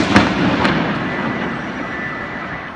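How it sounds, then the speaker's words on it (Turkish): Successive explosions at night in Istanbul's Esenyurt and Arnavutköy districts: a couple of sharp distant bangs close together, then a long rumbling fade in outdoor ambience. "İstanbul Esenyurt ve Arnavutköy'den dün gece ard arda patlama sesleri geldi."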